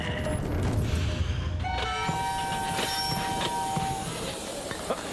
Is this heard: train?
yes